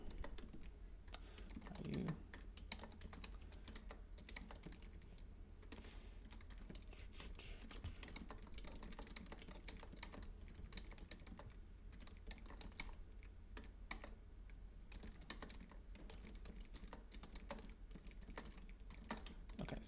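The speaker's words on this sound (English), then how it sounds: "I'll type a quick thing in here, and it'll just take me a minute to type this up here." Steady typing on a computer keyboard in a quiet room, a long run of soft, fairly quiet key clicks with brief pauses and no talking.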